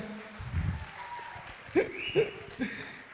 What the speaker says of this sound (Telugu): అందరూ ఆయనకి క్లాప్స్ కొట్టండి ఫస్ట్